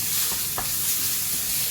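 A tablespoon of roughly chopped garlic hits hot oil in a pan for Indian-Chinese hakka noodles, giving a steady, close, bright sizzle with a few stirring scrapes, and no voices.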